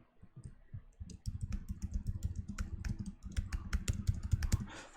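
Rapid computer keyboard typing while a code comment is entered, a dense run of close, crisp key clicks that starts softly and continues steadily with no voices.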